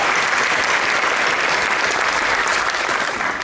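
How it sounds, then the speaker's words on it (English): Dense, loud audience applause fills a county supervisorial district's state-of-the-district address, a steady wash of many clapping hands with no break and no voices above it. "Come on, round of applause for each other."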